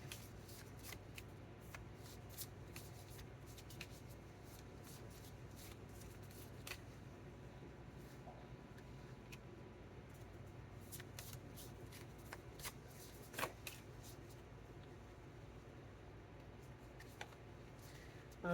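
Tarot cards from a Persona deck being shuffled and handled, faint intermittent papery riffles and taps over a quiet room hiss, close but soft, with no speech.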